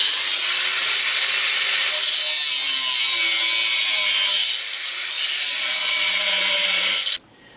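Thick sheet steel strip, about 3 mm thick, being cut by a power tool in a workshop: a loud, steady bright grinding rasp running continuously for around seven seconds, then stopping abruptly near the end.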